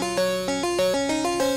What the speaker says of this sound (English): With the bass line, it sounds like this.